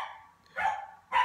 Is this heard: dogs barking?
yes